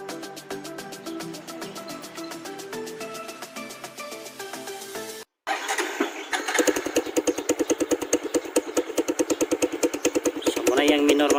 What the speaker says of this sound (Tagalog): i-sound check nato mga bay para malunggan ninyo kung sa tingog gani atong gihimo nga kalkal pipe